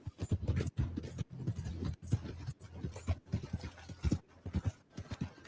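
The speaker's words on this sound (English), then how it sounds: "All I'm doing is riding my horse." A horse ridden along a road in a video game gives steady, rhythmic clip-clop hoofbeats at close range, continuing without pause and with no talking over them.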